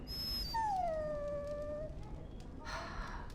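A dog whimpers and howls in the Dragon Age video game, one drawn-out whine that slides downward over about a second and a half, fairly clear over a low background hum, followed by a brief rustle.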